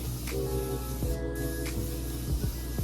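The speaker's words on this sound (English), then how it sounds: "So, I'm gonna spray the inside of my crock pot, okay?" Cooking spray hisses inside a crock pot in a few short bursts close to the microphone, over a steady low hum.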